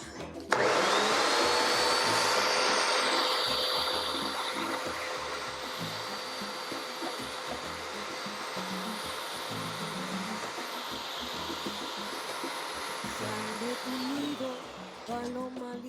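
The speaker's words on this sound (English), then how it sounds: "And we're gonna get to blending, guys." A Ninja blender whirs loudly while blending sofrito ingredients, a steady high-pitched motor roar that starts abruptly, settles into a constant drone for most of the time, then cuts off near the end.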